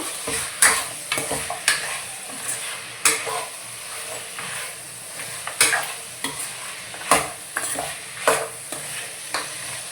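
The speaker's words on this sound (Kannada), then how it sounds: "ಹಾಗಾಗಿ ಚೆನ್ನಾಗಿ ಈ ರೀತಿಯಾಗಿ ಫ್ರೈ ಮಾಡ್ಕೋಬೇಕು" Mutton pieces stir-fry in a pan for a village-style mutton sambar, with a loud continuous sizzle and repeated sharp scraping strokes of a spoon at an irregular, brisk rhythm.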